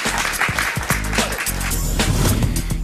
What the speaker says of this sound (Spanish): Si quieren aplaudirlo, lo pueden aplaudir.